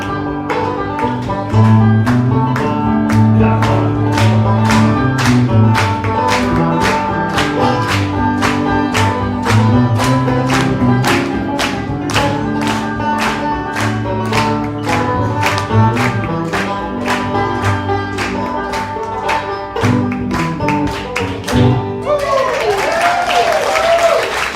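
An audience at a live concert claps along in a steady, even beat over music, the hand claps sharp and regular, then breaks into looser applause with a voice near the end.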